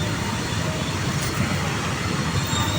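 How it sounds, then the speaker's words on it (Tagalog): A passing train roars close by as a loud, steady rumble with broadband rushing noise, holding constant throughout without breaks and with no voices over it. "Ay! Train."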